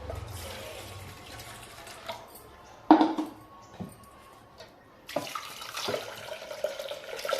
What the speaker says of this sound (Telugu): కొన్ని వాటర్ పోసుకుందాం.